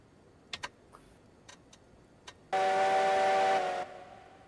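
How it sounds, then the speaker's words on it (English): A Heisler steam locomotive whistle in the Railroads Online railway game gives one loud, sustained blast of just over a second, preceded by several faint clicks and taps. "There's a Heisler whistle."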